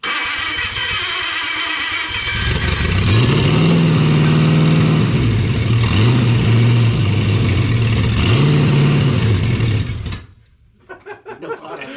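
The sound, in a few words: 1951 Pontiac Chieftain engine running and revving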